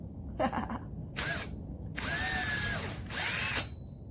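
A power drill whirs in several short bursts, rising and falling in pitch as it bores through material, with brief pauses between runs.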